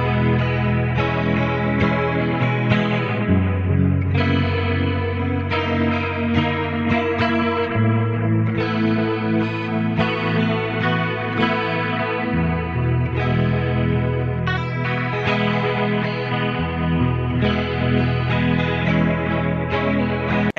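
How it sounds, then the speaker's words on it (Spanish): Electric guitar run through compression, tri-stereo chorus and a heavy H7600 delay, playing sustained chords and melodic notes with a lush, shimmering, echoing tone, loud and steady with no talking. "Ahí estamos procesando entonces compresión, triestéreo chorus, delay del H7600."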